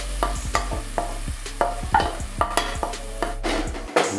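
Grated onions with bay leaves frying in a pan for Hyderabadi mutton masala, a soft sizzle under repeated scraping stirs in an uneven rhythm, close by and alone.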